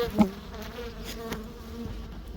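A steady, low buzz of honeybees at the hive hums throughout, fairly faint with no voices.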